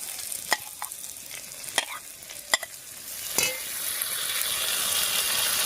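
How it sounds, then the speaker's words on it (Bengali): Ground spice paste fries with potatoes and onions in a pan. Sharp spatula scrapes and knocks sound at irregular intervals over a sizzle that grows steadily louder toward the end. "এবারে বাটা মশলাটা এর মধ্যে দিয়ে দিচ্ছি।"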